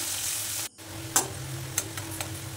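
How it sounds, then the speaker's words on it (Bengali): Chopped onions fry in oil with cumin seeds in a pan, sizzling and crackling steadily, with a few sharp ticks and stirring scrapes over a continuous hiss. "ওটা একটু ভাজা ভাজা হলে পেঁয়াজ কুচি দিয়ে দিলাম।"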